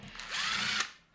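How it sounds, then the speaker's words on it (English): An electric drill runs in short bursts while a car amplifier is being taken apart. The motor whine is loud, close and steady, with a brief pitch change partway through before it winds down. "I use this drill day in, day out."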